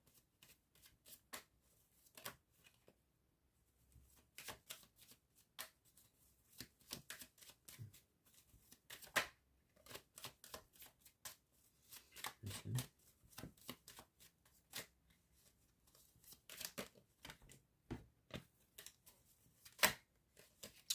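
Tarot cards being shuffled, a steady run of sharp papery riffles and flicks repeating close up across the whole stretch, with no voices.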